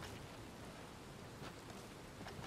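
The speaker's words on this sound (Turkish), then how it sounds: "Abi bu yağmur ne böyle ya?" Rain falls in Red Dead Redemption 2 Online, a faint, steady hiss of noise with scattered soft patters and no voices.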